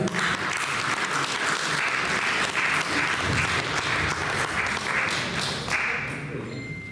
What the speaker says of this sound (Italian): Un applauso a Maria.